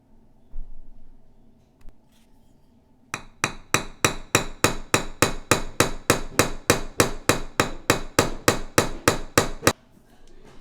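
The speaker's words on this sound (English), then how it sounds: "so it rounds over as you hammer it." Steady, rapid metal-on-metal hammer strikes of a nail punch rounding over a die-cast Matchbox truck axle, about twenty evenly spaced blows, loud and close, with no talking.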